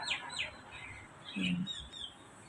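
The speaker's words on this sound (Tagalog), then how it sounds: "yung huni ng ibon." Small birds chirp in short, bright bursts near the start and again around the middle, fairly faint over a low outdoor hum where someone sits outside to relax.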